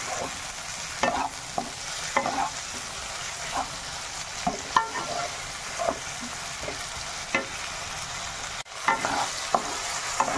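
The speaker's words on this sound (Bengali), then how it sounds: "ভালো মতন করে পেঁয়াজ টমেটোটাকে ভালো মতন করে ভেজে নিতে হবে।" Onion and tomato masala sizzling steadily in a pan for a chicken masala, with repeated scraping clicks of a spoon stirring through the mixture, close and continuous without talk.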